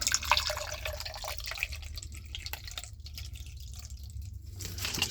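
Water poured slowly from two bottles into an air conditioner drain to test the line for leaks, a soft trickling and dripping that runs unevenly and close by, with no talk over it.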